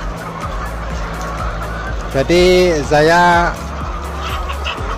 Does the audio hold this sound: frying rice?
no